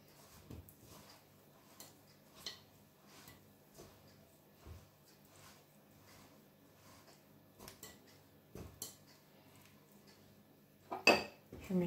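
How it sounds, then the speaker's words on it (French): Dough for corne de gazelle being mixed by hand in a bowl, with quiet, sparse taps and clinks of the bowl and a sharper clatter near the end, close and faint in a quiet kitchen. "Voilà, donc je mélange là"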